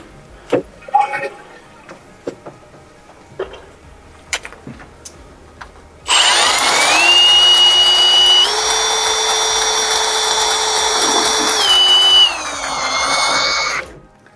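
A power drain auger motor whines steadily at high volume for several seconds while clearing a toilet blockage, after some scattered clunks and handling noises, then cuts off.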